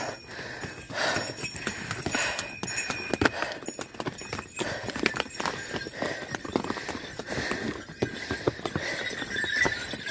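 Horses walk along a mountain trail near a snowy lake, hooves clip-clopping in a continuous uneven rhythm on stony ground, close and moderately loud, with faint voices in the background.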